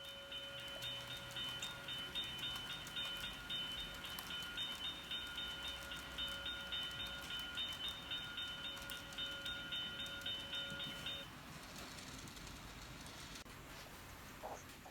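The Canadian passenger train rolls through Deadwood past its main street, heard as a faint, steady rumble with sustained high whining tones that drop away near the end, distant and quiet throughout.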